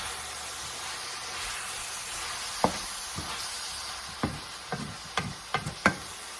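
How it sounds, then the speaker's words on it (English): Chili stirred in a hot pot gives scraping knocks and clunks from about the midpoint onward, several sharp hits in a loose rhythm over a steady sizzling hiss, with no voices. "I'm going to give all this a stir"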